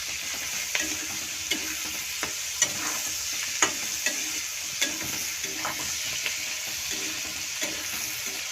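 Capsicum fries in a pan for fried rice while a spatula stirs it, giving a soft steady sizzle punctuated by regular scraping strokes and light taps against the pan.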